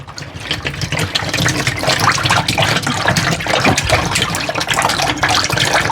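Cold water poured from a jug, a loud, continuous splashing and gurgling stream lasting several seconds, close by, with no voices.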